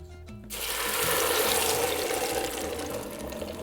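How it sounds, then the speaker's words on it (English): Guajillo sauce pours into a hot pot with a little avocado oil over medium heat, a sudden loud rush and sizzle that swells and then holds steady, bubbling and hissing, with no talking. "now carefully pour in the guajillo sauce"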